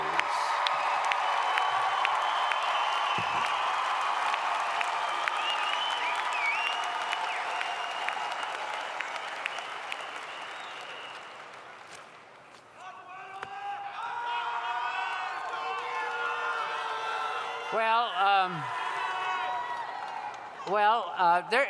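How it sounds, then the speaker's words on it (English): A graduation ceremony crowd at the Eberly College of Arts and Sciences applauds and cheers loudly for about twelve seconds, then fades as whoops and a speaker's voice take over. "This is a raucous crowd, I must say"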